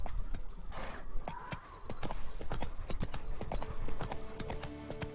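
Hooves of Roach, the horse in The Witcher 3 video game, clip-clopping in a steady, brisk rhythm of sharp, close strikes, with faint background ambience and no voices.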